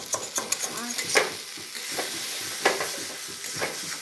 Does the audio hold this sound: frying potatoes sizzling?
yes